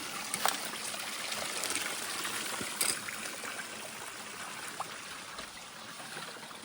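Water trickling and dribbling from a spring in the Philippine countryside, a steady close bubbling flow with a few brief splashes over its 6.7 seconds, no voices.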